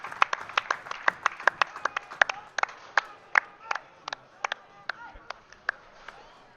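Scattered hand claps from an audience after a Bonzini foosball doubles quarterfinal, a few dozen distinct sharp claps in an uneven rhythm that thins out toward the end, fairly close and moderately loud.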